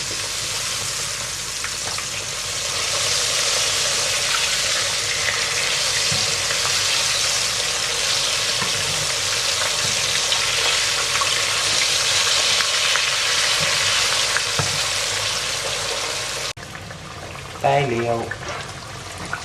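Loud, dense sizzling of fish frying in a pan fills most of the clip, then cuts off abruptly, followed by brief clatter and a voice.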